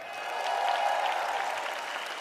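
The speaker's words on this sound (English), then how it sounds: "please give a round of applause to the president of the Miss Universe organization, Miss Paula Shugart" Audience applause at the Miss Universe 2016 preliminary competition, a steady wash of clapping from a large crowd that swells slightly and holds at an even level throughout.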